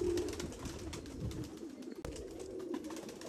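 Pigeons in a pigeon loft in Nashik give soft, low cooing calls, faint and repeated over a quiet background.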